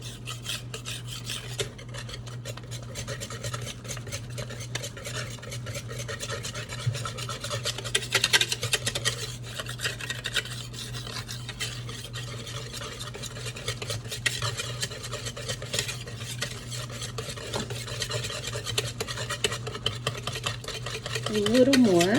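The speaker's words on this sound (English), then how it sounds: "So I'm just incorporating everything into it, and we're stirring until it's smooth" A whisk or spoon stirs crepe batter for Crepes Suzette in a bowl until smooth, a continuous close scraping and rasping that runs steadily throughout with a low hum underneath.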